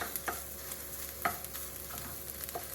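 Food for a fried rice dish with marinated pork loin is stirred and fried in a pan, a soft background sizzle broken by a few quiet scraping clinks of the utensil.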